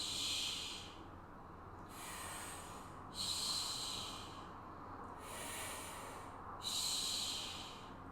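Steady breathing during a bodyweight arm workout on the floor, with four or five airy inhale-exhale cycles repeating in a slow, even rhythm, close and moderately quiet over a faint low background hum.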